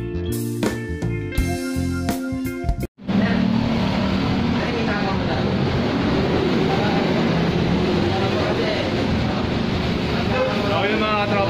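A Honda Airblade or TMX 125 motorcycle engine runs. A few short sharp bursts are followed, after a brief drop, by a steady loud close engine drone that continues to the end, with some talking over it.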